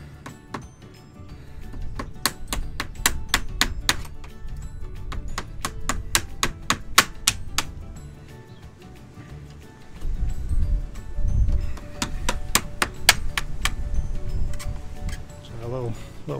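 Welds of a PVC sash window frame being cracked apart, giving a run of sharp clicks and snaps in bursts, with quieter scraping in between and dull thumps near the end.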